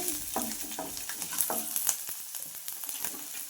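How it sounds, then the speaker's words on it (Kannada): Cumin, urad dal and garlic frying in hot oil for a temple-style pumpkin sambar tempering, with a steady close sizzle broken by scrapes and light stirring clatter. "ಜೀರಿಗೆ ಉದ್ದಿನಬೇಳೆ ಎಣ್ಣೆಲಿ ಫ್ರೈ ಆಗಬೇಕು. ಬೆಳ್ಳುಳ್ಳಿ ಫ್ರೈ ಆದಮೇಲೆ"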